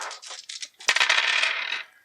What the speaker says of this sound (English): They roll like normal dice.